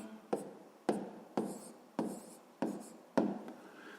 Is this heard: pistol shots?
no